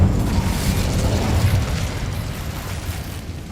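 An Incendio fire spell cast in Hogwarts Legacy gives a loud, dense whooshing roar of flame that starts strong and tapers slightly over a few seconds, with no voices.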